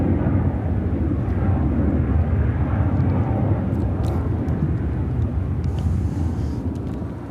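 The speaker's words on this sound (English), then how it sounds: "This is United Airlines 2654 taking off to Newark on the" A United Airlines Boeing 757-200 takes off, its engines a steady, broad roar held loud and close throughout, easing only slightly toward the end, with no voices.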